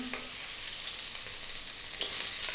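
Garlic, ginger and onion sizzle in a pan, a close, steady frying hiss with a few light clicks of a utensil stirring through it.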